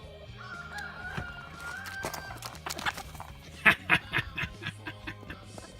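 A hen squawks in a run of sharp, agitated bursts, loudest in the second half, over a low background rumble.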